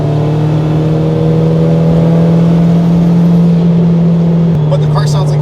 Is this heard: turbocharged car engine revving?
yes